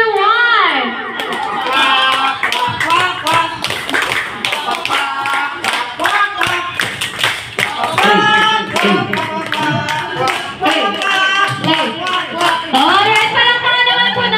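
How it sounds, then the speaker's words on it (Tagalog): Guests at a Jollibee kids' party for a first birthday clap in a rhythmic group beat, mixed with loud singing, children's voices and chatter throughout. "Okay, palakpak po tayo guys."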